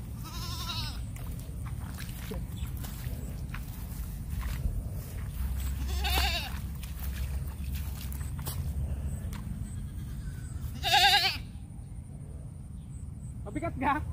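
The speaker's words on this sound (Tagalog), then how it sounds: "Yung kambing, kinakagat agad yung tali mga kalitar eh." A goat bleating outdoors in a grassy field while tugging and biting at its tether rope, three short wavering bleats spaced apart, with people talking in the background.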